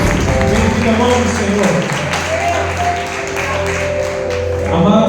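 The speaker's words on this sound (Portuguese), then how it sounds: "aplauda o nome do Senhor Jesus" A church congregation applauds during a worship service, a steady spread of clapping under a preacher's voice and sustained musical tones.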